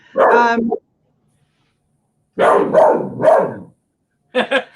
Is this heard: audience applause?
no